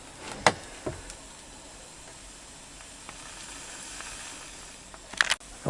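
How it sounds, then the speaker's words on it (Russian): Capercaillie meat sizzles in a frying pan at an outdoor field kitchen, a steady faint hiss with a few sharp pops and crackles near the start and end, no talking. "Что-то шипит на сковородке."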